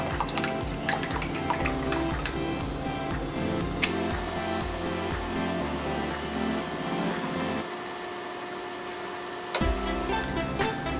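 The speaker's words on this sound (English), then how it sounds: "Okay, now you want to add the coconut cream." Coconut cream poured into a pot for a vegan Burmese coconut noodle soup (oh no khao swe) makes a steady liquid trickle with light drips and clinks over a constant background hum. No one talks.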